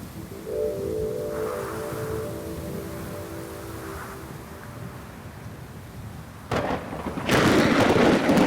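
Thunder rolls from a late-summer storm over a lake region, a low rumble under wind noise before a loud crack and heavy broadband roar break in near the end.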